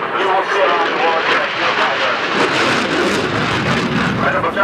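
Italian Eurofighter Typhoon jet performing an airshow display at Leeuwarden, a loud, steady broadband engine roar filling the whole stretch, with a commentator talking over it.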